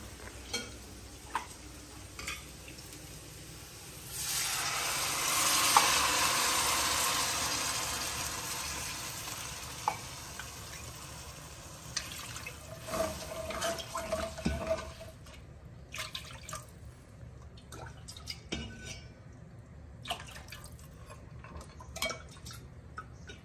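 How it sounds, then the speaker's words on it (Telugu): Six cups of water pour into a cooking pot for bagara rice, a steady rushing stream that swells for several seconds, followed by scattered clinks and stirring of utensils. "6 cups ఆఫ్ వాటర్ పోసాము"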